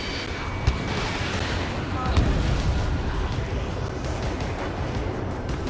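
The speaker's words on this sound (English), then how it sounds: "Missile fired." Missile launch from a fighter jet in Ace Combat 7: a steady loud roaring rush with a few thumps and pops, layered over constant engine noise and cockpit radio chatter.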